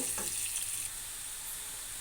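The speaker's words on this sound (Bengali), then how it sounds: "আমার পেঁয়াজটা ভাজা হয়ে গেছে মশলাগুলো দিয়ে দেব" Onions frying in a pan give a close, steady sizzle and hiss, slightly busier at first and then settling into an even crackle, with no voices.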